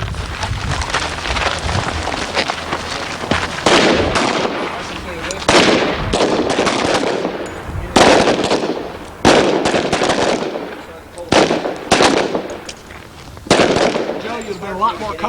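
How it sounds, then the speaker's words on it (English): Sharp gunshots crack at a shooting range during a rollover prone drill, loud repeated reports over steady rain-like background noise and an instructor's voice. "2 shots center mass from rollover prone."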